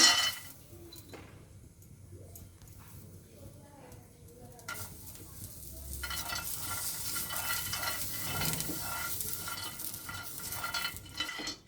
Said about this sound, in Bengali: এখানে বাদামটা ভেজে নেব